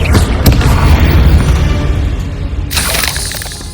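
A Confringo fire spell blast from the game Hogwarts Legacy, a booming burst with crackling debris, followed by a second bright crackling burst near the end.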